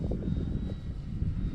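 Steady engine drone of a Top RC FW 190 radio-controlled model plane flying on a windy day, continuous and moderately loud with wind rumble underneath and no talking.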